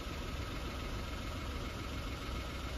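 A Citroen BS6 car with a manual transmission and a fitted CNG kit idles on CNG, giving a steady low engine hum with a faint rhythmic knock, close and unbroken, with no talking.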